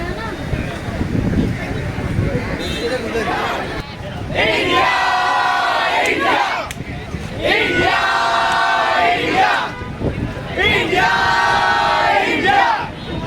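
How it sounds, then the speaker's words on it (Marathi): A huge crowd of cricket fans roars and chants in surging waves at the T20 World Cup victory parade road show in Mumbai, loud and close with wind buffeting the microphone. "सो बघू शकता फॅन्सची किती गर्दी आहे"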